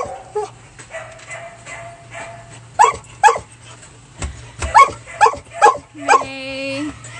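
Puppies loaded into a van let out sharp yips, barks and whimpers in short bursts, close by, with a person talking over them and a low engine hum beneath.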